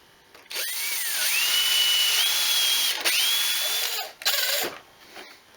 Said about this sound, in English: I'll do a pilot hole first